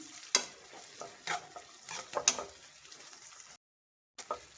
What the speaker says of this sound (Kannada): ಈಗ ಒಂದು ಗರಿ ಕರಿಬೇವು, 4 ಹಸಿರು ಮೆಣಸಿನ್ಕಾಯಿ ಹಾಕ್ತಾ ಇದ್ದೀನಿ.